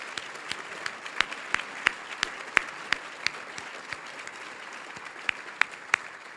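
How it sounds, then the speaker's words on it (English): Scattered handclaps ring out at an awards ceremony honoring community and scholarship winners, sparse and uneven individual claps spaced through the room rather than a dense ovation. "Let's give a round of applause to all our winners tonight."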